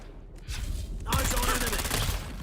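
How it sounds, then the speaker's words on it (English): Video-game gunfire: after a quieter start, a dense, rapid run of shots erupts about halfway through and keeps going loud and close to the end. "Well, guess I gotta use a gun."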